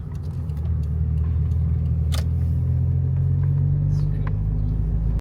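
Mazda MX-5 retro car cruising on a road past the lakes, a steady low engine drone and road rumble heard from inside, constant and fairly loud with a couple of faint clicks.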